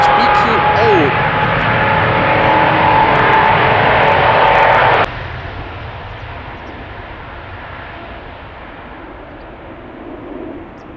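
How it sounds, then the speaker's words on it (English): KLM Boeing 777-200 spooling up its jet engines for departure from Amsterdam Schiphol, a loud roar with engine whine that cuts off sharply partway through, leaving a quieter rumble beneath a voice. "Spooling up right now is KLM flight 603 to LAX, and this is 777-200"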